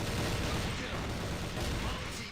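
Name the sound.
gunshot through a wall, from a video game (Counter-Strike)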